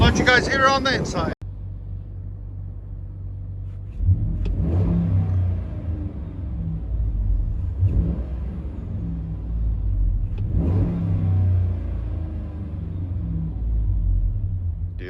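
A 2012 Dodge Ram with a 5.7L Hemi, true dual exhaust and Flowmaster Super 10 mufflers rumbles from inside the cab, idling low and deep, then revs up in several swells. A voice speaks briefly at the start.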